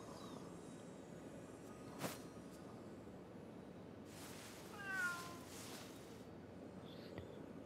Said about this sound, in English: My own cat pet.